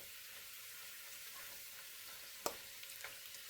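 Chicken flautas fry in a shallow layer of oil, giving a steady soft sizzle with one sharp clack partway through and a few faint pops near the end, quiet and without talk.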